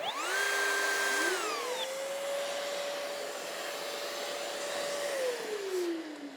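A Festool cordless trim router whines up to a high pitch and holds steady while finishing a workpiece edge, with its attached vacuum's broad whoosh running underneath, then the motor winds down.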